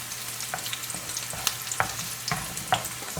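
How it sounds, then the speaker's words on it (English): Peppers roast in a pan with browned garlic, making a continuous close sizzle broken by scattered sharp scraping clicks as the pan is stirred, with no voices. "So now we're just going to throw in these peppers. We're going to roast them."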